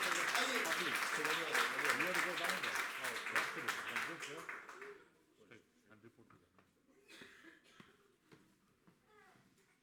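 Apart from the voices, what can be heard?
audience applauding for Kiera Bhanot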